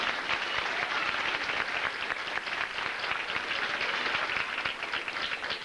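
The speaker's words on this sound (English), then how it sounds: "You can give them a round of applause right off the bat" Steady, dense applause from a full audience at a children's holiday rock-and-roll show, unbroken and even in loudness for the whole stretch with no voices on top.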